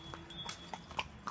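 A horse's hooves clip-clop along a mountain trail toward Tiffin Top in Nainital, a few light, spaced hoofbeats at moderate distance over a quiet outdoor background.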